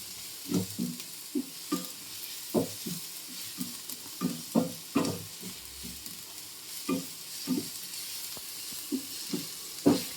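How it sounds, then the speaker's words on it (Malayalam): Clams fry in a pan with chili powder under a constant soft sizzle, while a spoon stirs through them in a quick series of close, regular scrapes and knocks. "എന്നിട്ടിങ്ങനെ വീണ്ടും ഇളക്കി കൊടുക്കുക."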